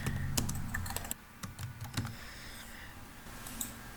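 Rapid typing on a computer keyboard, entering a name to save a graph in data-viewer software: a quick burst of close, crisp key clicks, then a brief pause and a few more scattered taps, with no voices.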